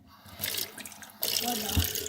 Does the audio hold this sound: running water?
yes